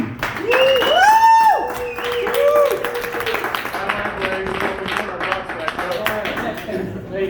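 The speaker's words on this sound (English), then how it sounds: "Love the applause." Clapping and cheering from an audience swell under a speaking voice, with whoops and tones rising over the crowd noise.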